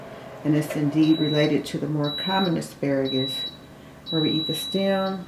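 A high, thin electronic beep sounds repeatedly in a kitchen, short steady tones recurring four or five times at irregular intervals beneath someone talking continuously.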